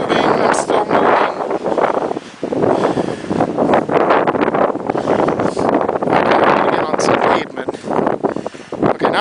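Strong wind during the February 2010 blizzard roars and buffets the microphone continuously outdoors in deep snow near a street, loud and gusty throughout.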